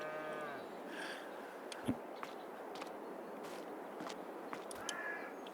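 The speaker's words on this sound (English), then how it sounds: "Listen to them old cows over there mooing." Cows moo at a distance on a Farming Simulator farm, a few drawn-out low calls spread across a quiet outdoor ambience with faint thuds and short crow-like caws, soft and far away.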